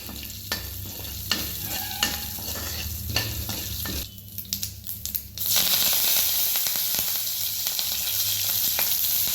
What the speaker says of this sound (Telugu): తాలింపు పెడుతున్నానండి. అందులో నూనె వేసుకున్నాను.